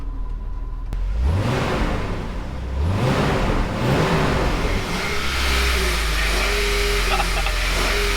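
A loud Jeep Wrangler engine revs up repeatedly in rising surges, then settles into a rough, throaty idle with a few quick blips near the end.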